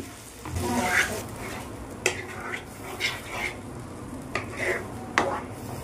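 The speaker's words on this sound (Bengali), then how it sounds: "এটা আমি দিয়ে দিলাম, দিয়ে একটু নাড়াচাড়া করি" Ground spice paste for chicken curry stirred in a pan, with irregular scraping strokes and occasional sharp clinks of a spoon on the pan over a faint sizzle, fairly quiet and close.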